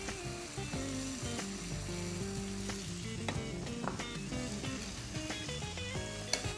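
Tomato paste and salt sizzle steadily in a hot frying pan, a close, continuous crackling hiss with occasional stirring scrapes and clinks, no talking.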